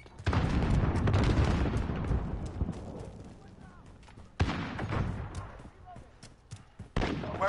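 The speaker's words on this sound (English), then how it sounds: "Grenade out!" A grenade explodes in a shooting video game with a loud, deep boom that rumbles and fades, followed by sharp bursts of gunfire and further blasts.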